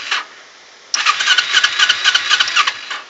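A 2008 Kawasaki Ninja 250R motorcycle engine cranks briefly, then catches and starts, settling into a loud, close, buzzy idle with an uneven, pulsing rhythm.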